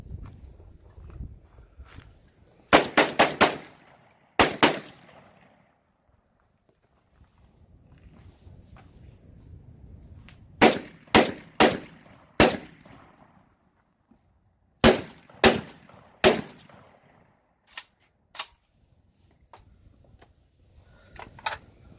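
A rusted AK rifle with missing parts fires in short bursts and single shots, sharp loud cracks spread across the stretch with quiet gaps and faint shuffling between.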